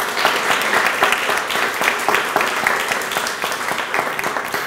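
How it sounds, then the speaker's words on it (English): Dense, steady applause from a large crowd, many hands clapping at once, loud and sustained throughout with no talking. "Give yourselves a big round of applause."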